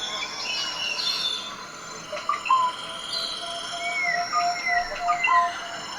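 A robin sings in a garden, giving thin, high whistled phrases and short chirps over a soft, steady background hiss.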